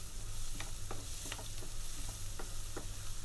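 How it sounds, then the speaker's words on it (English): Onion, bay leaf and a cinnamon stick sautéing in olive oil for Greek soutzoukakia: a steady broadband sizzle with a few soft spoon scrapes and stirs, close and continuous, with no talking. "We're adding in the bay leaf and the cinnamon stick, and we're just going to saute this for a bit"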